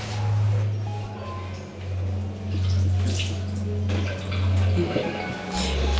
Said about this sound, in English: Just wash your hands.